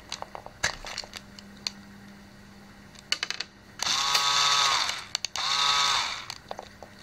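An electric shaver with a newly replaced battery runs in two buzzing bursts of about a second each, close and loud, between scattered clicks and handling noises of the opened razor.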